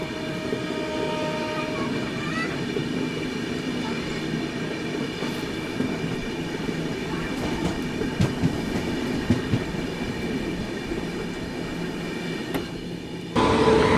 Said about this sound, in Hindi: ये है आनंद विहार जोगबनी सीमांचल एक्सप्रेस।